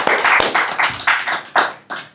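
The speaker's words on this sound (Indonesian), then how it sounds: "Dia tepuk tangan dulu" A few sharp hand claps spaced unevenly, each a crisp slap close to the listener, standing alone in a quiet room with no talk during them.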